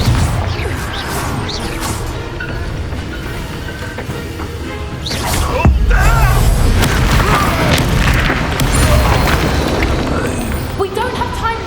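Spell explosions crack and boom in rapid succession during a Hogwarts Legacy battle, with heavy blasts, crashes and whooshes layered over game music and effects.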